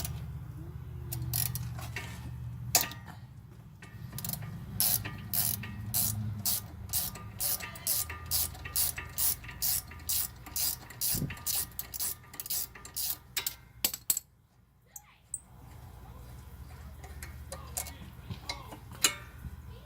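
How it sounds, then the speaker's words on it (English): A regular 3/8 ratchet is worked on brake caliper bolts, giving a quick run of close metallic clicks in steady bursts under a low background hum, with a brief pause before more clicks. "I'm gonna be using a regular 3/8 ratchet"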